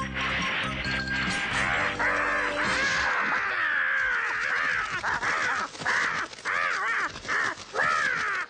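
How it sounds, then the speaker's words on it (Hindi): A cartoon crow caws harshly again and again, loud and close, in bursts of shrill, wavering calls against animated sound effects, with no talk. "शुक्र है कि वो कौवा अपनी जान बचाकर भाग गया"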